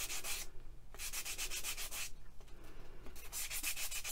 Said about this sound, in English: I just sand away, keep checking the surface, and I stop sanding when I stop feeling the drag on the surface